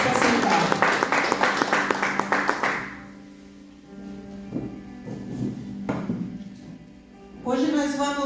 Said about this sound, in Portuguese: Batam palmas para o Senhor.